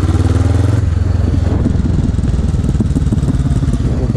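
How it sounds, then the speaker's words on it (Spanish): A Honda CB500F motorcycle with an aftermarket exhaust, heard while riding, gives a loud, steady engine drone with a rapid pulsing rumble that runs close and unbroken throughout. "Madre mía, cómo suena con el escape."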